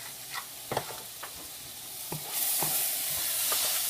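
Fresh garlic sizzles in a pan of asparagus and pepper stir fry, with a few stirring scrapes and clinks over a steady hiss that grows brighter and louder toward the end.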